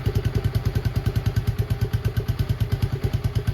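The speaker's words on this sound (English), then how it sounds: "Kind of stumbling with the choke on." A Honda Dax clone 125cc engine runs with the choke on, stumbling in a fast, uneven, lumpy pulse with clattering thuds, close and loud throughout.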